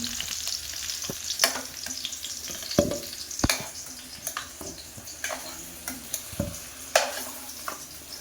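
Potatoes fry in oil in a karahi for a village-style mutton curry, giving a steady close sizzle broken by sharp clicks and taps from a stirring utensil.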